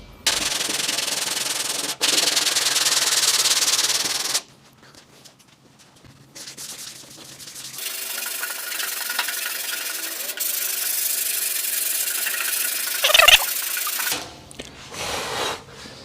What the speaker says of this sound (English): we've just converted our sweep or our profile gauge into a sanding tool for that fender